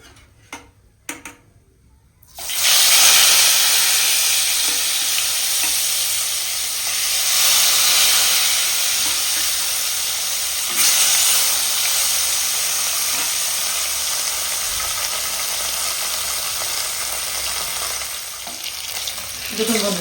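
Pieces of bhola fish fry in hot oil, a steady broadband sizzle that sets in after a couple of seconds of quiet handling clicks and then holds strong and even to the end.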